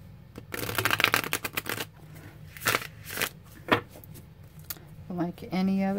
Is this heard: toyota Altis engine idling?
no